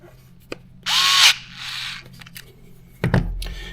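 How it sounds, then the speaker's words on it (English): A cordless power driver runs in short bursts, tightening screws on new wheels of a Redcat Ascent RC crawler, close up, with small clicks and handling noises between the whirs. "you can go ahead and start tightening up a few of those screws"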